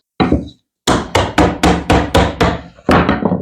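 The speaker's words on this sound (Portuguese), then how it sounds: "eu vou posicionar aqui o meu formão bem no bico aqui e dar uma pancada para ver se ele solta" Hammer striking a chisel to release a resin mold, an isolated first knock followed by a fast, evenly spaced run of about seven loud, close, sharp metallic-wooden blows, then one last hit.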